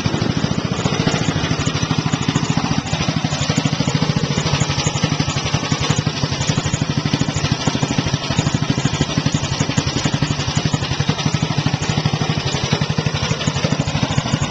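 A small rear-engined car with slick tires and a top speed of about 25 mph runs its engine at a steady, loud, rapid chugging idle throughout, close by and without talk.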